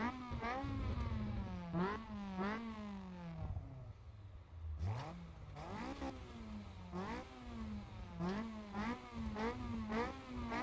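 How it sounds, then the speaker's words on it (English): Car engine and exhaust in the Assetto Corsa EVO racing game, revving repeatedly up and down through gears with a deep, raspy note, loud and continuous with a brief lull midway. "I also love how the sound source of the exhaust gets louder the closer you get"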